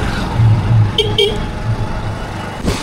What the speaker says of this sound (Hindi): बहुत ज़्यादा ट्रैफिक है आज तो।